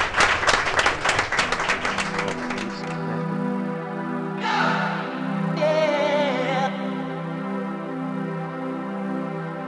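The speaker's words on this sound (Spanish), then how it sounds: "Un fuerte aplauso, porque aquí lo tenemos." Audience applause at an evening variety show greets a late-arriving captain: a dense burst of clapping for about three seconds, then it gives way to sustained musical tones.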